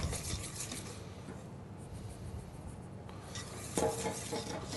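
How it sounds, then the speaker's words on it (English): Faint, continuous scraping and clinking of a whisk against a bowl as flour is worked into blueberry upside-down cake batter, with a sharper metallic clink near the end. "So whisk my first addition in."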